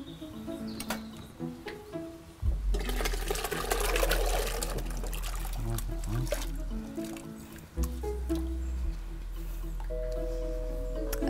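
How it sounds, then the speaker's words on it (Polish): Potatoes are poured into a cooking pot, a dense rattling, splashing rush lasting several seconds and then falling away, with faint voices in the background. "No to wsypujemy ziemniaki"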